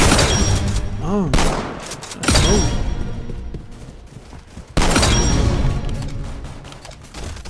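Shotgun blasts in a video game, three heavy booming shots spaced a couple of seconds apart, each with a sharp attack and lingering tail, alongside intermittent speech.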